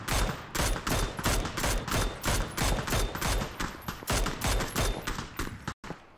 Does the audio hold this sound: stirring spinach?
no